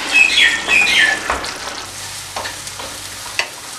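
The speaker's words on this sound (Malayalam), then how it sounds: "ഈ മസാലയുടെ പച്ചമണം മാറുന്നത് വരെ ഇതൊന്ന് മൂപ്പിച്ചെടുക്കണം. അപ്പോൾ 1-2 മിനിറ്റ് നേരം ഇങ്ങനെ ഒന്ന് വഴറ്റി കൊടുക്കുക." Coriander and pepper masala sizzles and is stirred in a pan for Kerala-style mutton curry, with scraping stir strokes over a soft frying hiss, loudest at the start and settling to a quieter sizzle.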